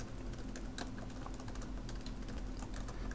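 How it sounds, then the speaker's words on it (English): Keys clatter on a computer keyboard in a steady burst of typing, with a constant low background hum and no talking. "If I can type."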